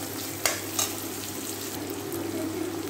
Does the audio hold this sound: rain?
no